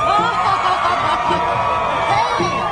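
Crowd of American tourists cheering and laughing together, a dense, loud mix of whoops and chatter that stays steady throughout.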